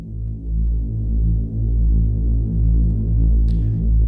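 A saturated reese bass synth drones low and thick, its added harmonics giving a steady, slowly throbbing buzz that holds alone for about four seconds.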